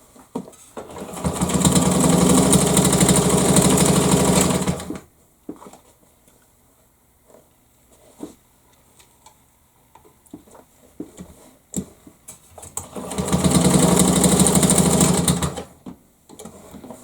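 A Wards Damascus rotary sewing machine runs in two loud bursts of fast, even mechanical whirring, each a few seconds long, separated by quiet stretches with light clicks and handling.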